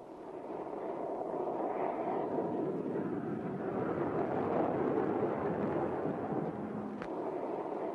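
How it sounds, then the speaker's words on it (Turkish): F-86 jets performing a bomb-burst manoeuvre at a 1963 flying display, heard as a loud, continuous, broad rumbling roar that holds steady for the whole stretch with no voices. "F-86'ların bomba gülü gösterisi."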